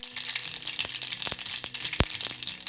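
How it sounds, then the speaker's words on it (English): Black mustard seeds sizzle and crackle in hot oil up close, a steady frying hiss dotted with quick irregular pops and one sharp crack, with no talking. "I love that crackling sound,"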